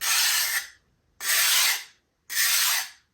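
Three slow, rasping file strokes scraping across a metal edge while swedging for gold leaf work, each about half a second long and evenly spaced, close and clear with silence between.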